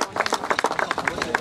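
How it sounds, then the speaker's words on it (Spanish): Scattered hands clapping at an awards ceremony for the Juegos Bonaerenses sports games, sharp separate claps close by, with voices mixed in. "Un fuerte aplauso."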